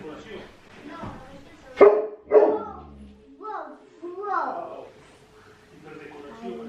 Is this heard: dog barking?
yes